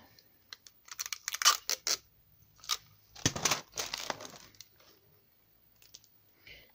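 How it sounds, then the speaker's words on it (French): Clear transparent adhesive tape pulled and stuck down over a glittery item, giving a few short crackling rips and crinkles in separate bursts, close and fairly quiet, with no talking. "je vais peut-être mettre un peu de scotch le temps de faire la vidéo"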